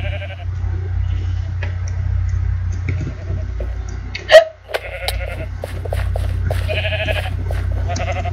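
Sheep bleating in Minecraft, several short wavering bleats over a steady low hum, with a sharp click-like sound midway and the game's ambience continuing.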